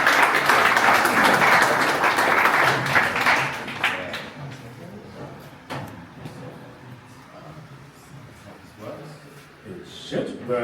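Audience applause at a Berlin SaaS founders event, a dense burst of clapping for the first few seconds that fades into scattered claps and room sounds, with talk following.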